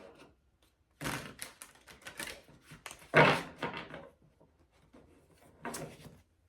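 Quick papery riffles and soft slaps of tarot cards being shuffled, in several short bursts separated by quiet pauses, close by.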